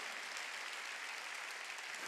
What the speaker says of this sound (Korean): 깨달았으면 박수 치라니까요